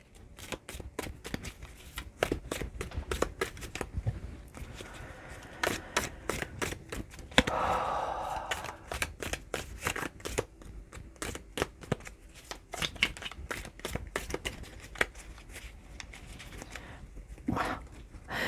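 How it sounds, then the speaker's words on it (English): Crisp riffling clicks of cards being shuffled in quick bursts, close up, with short pauses between shuffles and no talking. "Now these cards don't want to shuffle."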